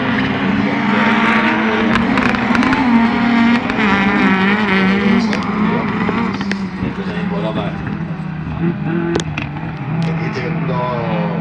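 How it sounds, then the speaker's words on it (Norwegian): A racing car engine at a championship meeting at Momarken, droning steadily with a rising and falling tone, loud and near, under continuous commentary. "En bil, ja."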